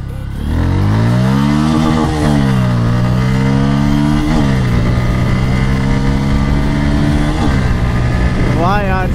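A Bajaj Pulsar N160 motorcycle accelerating hard in a pickup run, the engine loud and close, climbing through several gears with brief dips at each shift, its note rising steadily.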